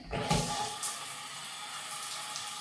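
A hotel shower at the Tropicana Atlantic City's Havana Tower is turned on, giving a bright, steady hiss of running water close by that carries on without a break.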